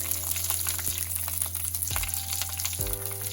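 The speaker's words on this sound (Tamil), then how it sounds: "இது கொஞ்சம் பொரிக்கட்டும்" Onions and curry leaves fry in oil in a pan for a home-cooked Tamil vegetarian lunch, giving a steady close sizzle broken by a few scraping stirs and utensil knocks, with no talking.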